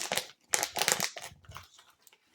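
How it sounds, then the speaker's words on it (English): Crinkling of a FoodSaver vacuum sealing bag, close and fairly quiet, in three or four dry rustling bursts that taper off near the end. "This is the Food Saver one, and here's the sound."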